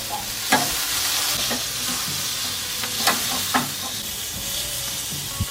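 Marinated flanken-cut beef spare ribs sizzle steadily on an Akorn kamado charcoal grill, a continuous close frying hiss broken by a few sharp pops and clicks as the ribs are turned.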